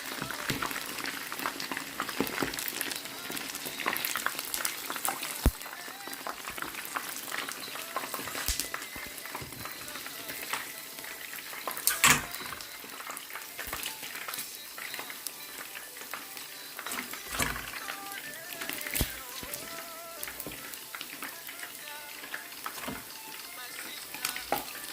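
Turkey wings deep frying in hot oil give a steady crackling sizzle with scattered pops, moderately loud and continuous throughout.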